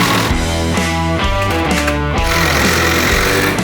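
A screw driven into a timber mitre joint with a power driver, a loud close motor whine rising and stalling in short bursts over a few seconds.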